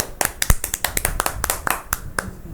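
Two hosts on a cricket review show clap their hands in applause, a quick run of sharp, close claps with an uneven rhythm lasting a couple of seconds.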